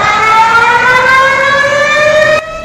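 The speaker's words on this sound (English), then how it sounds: "It sounded like a siren." A Malaysian emergency alert system siren blares very loud and steady, a sustained harmonic tone that rises slowly in pitch before cutting off sharply near the end, with no voices.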